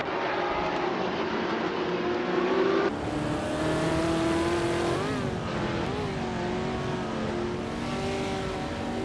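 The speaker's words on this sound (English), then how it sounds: "driving a classic 1970 Ferrari 512" A 1970 Ferrari 512 prototype race car in a racing video game howls continuously at high revs, its pitch rising and dropping with gear shifts and cornering, loud and steady with no talk.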